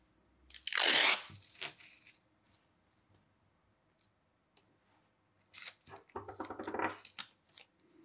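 Wide adhesive tape is pulled off the roll in a loud ripping tear, followed by softer crackling and a second rasping stretch as it is pressed onto paper on a wooden board, no voices.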